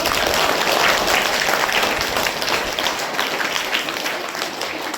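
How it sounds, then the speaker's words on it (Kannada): An audience of children and teachers at a school event gives sustained, dense applause, loud and steady across the whole stretch with no talking over it. "ಜೋರಾದ ಚಪ್ಪಾಳೆ ತಟ್ಟು ಮುಖಾಂತರ"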